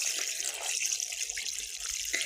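Water running from a tap into a pot for thick porridge, a steady close splashing hiss lasting a couple of seconds at a rural home, with no speech.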